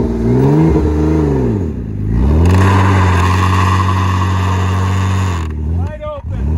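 A crashed Ford Fusion with a badly damaged front tire revs hard at wide open throttle, its engine note rising and falling loudly and close, with voices talking over it.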